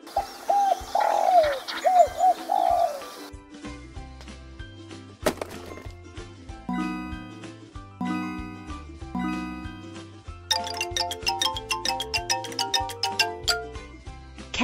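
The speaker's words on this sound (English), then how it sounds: "Pigeon." A pigeon gives a short run of soft, rolling coos for about three seconds. A long stretch of bright, plinking tune with chimes follows, and no one speaks.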